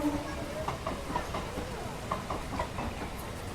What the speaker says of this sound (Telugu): ఏదో లోకల్ ట్రైన్ అయితే వెళ్తుంది